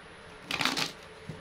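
Tarot cards briefly shuffled during a fortune-telling reading, one soft riffle lasting under a second, close but quiet.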